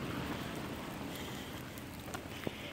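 Heavy rain falling outdoors, a steady dense hiss with faint wind noise on the microphone and a few small taps near the end.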